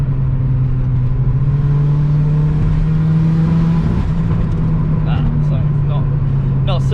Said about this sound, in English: I probably shouldn't rev it too hard like that